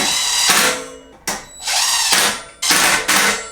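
A power tool drives the 180 mm brake rotor bolts on a Yeti SB140 mountain bike, running in four close, loud bursts of whirring with short pauses and ratchet-like catches between them and no talking.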